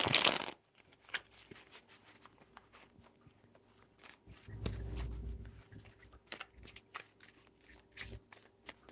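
Tarot cards shuffled in a quiet room, a soft papery riffle that rises into a dense, sustained burst near the middle, with light taps and rustles scattered around it.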